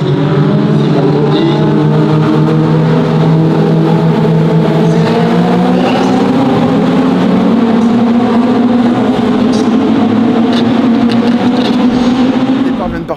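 Several racing cars roar at the start of a circuit race, engines rising in pitch together as they accelerate, loud and continuous throughout with a steady, dense mechanical drone.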